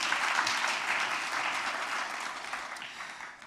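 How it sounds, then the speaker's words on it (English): Applause breaks out from a crowd, steady and fairly faint, a dense wash of clapping that slowly tapers off over a few seconds. "You can applaud."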